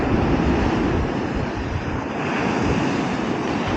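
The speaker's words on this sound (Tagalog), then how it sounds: "Medyo malakas yung alon, oh." Strong ocean waves crash and roar in a continuous loud wash, mixed with heavy wind buffeting the microphone on a windy coast lined with windmills.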